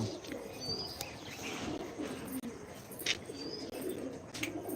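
Pigeons of a breeding pair coo in soft, repeated calls near the listener, with faint chirps and a steady ambient hum beneath.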